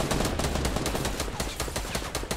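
Rapid automatic gunfire in the Fortnite Battle Royale video game crackles in dense overlapping bursts, loud and continuous throughout the short stretch with no talk over it.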